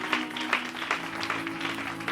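A church congregation at a Sunday service applauds and cheers for Jesus, a dense, steady wash of clapping with scattered louder claps and a sustained musical tone running underneath.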